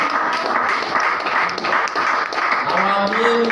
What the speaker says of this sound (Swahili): Pigia Yesu makofi mazuri